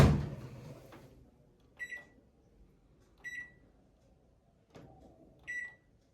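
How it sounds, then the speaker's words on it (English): A microwave oven cooking oil, ajwain and chopped onions: a fading hum at the start, then three clear electronic beeps spaced about one and a half seconds apart, with a soft clunk from the door between them. "take oil, ajwain and chopped onions and microwave for 3-4 minutes."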